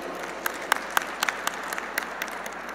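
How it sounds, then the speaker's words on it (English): An audience at a Naturopathy Day celebration applauds a guest doctor, with scattered, distinct claps rising from a moderate, continuous patter of applause. "A round of applause for Dr. Kuteri, please."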